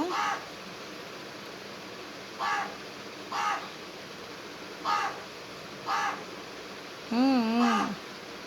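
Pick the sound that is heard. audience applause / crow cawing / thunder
crow cawing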